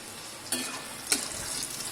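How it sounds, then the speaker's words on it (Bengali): Chili and garlic frying in a hot pan on a gas flame, a steady close sizzle with two brief stirring scrapes of the spatula. "লঙ্কাটা লঙ্কা আর এটা রসুনটা একটু ভাজা ভাজা হোক একটু রং ধরুক"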